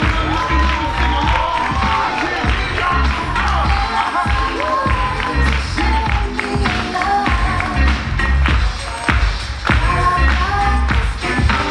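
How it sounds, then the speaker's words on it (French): At a comedy club, the audience applauds and cheers loudly, with dense clapping, whoops and shouts that rise and fall throughout. "On peut les applaudir bien fort encore une fois."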